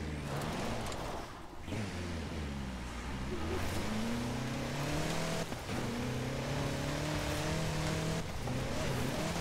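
A 2016 Toyota Land Cruiser driven in the racing game Forza Horizon 4 gives a loud engine drone that climbs and falls through gear changes, with brief dips and bursts of revving and some tire noise.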